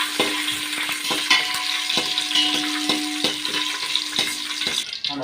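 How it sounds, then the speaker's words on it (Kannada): Cashews and raisins fry in hot ghee in a pan, giving a steady, close crackling sizzle broken by regular scraping and tapping as a spoon stirs them. "ತುಪ್ಪ ಹಾಕ್ಕೊಂಡಿದ್ದೇನೆ. ಗೋಡಂಬಿ ಮತ್ತು ದ್ರಾಕ್ಷಿ ಹಾಕ್ಕೊಳ್ತಿದ್ದೇನೆ. ಸ್ವಲ್ಪ ಬಿಸಿ ಮಾಡ್ಕೊಳ್ಳೋಣ."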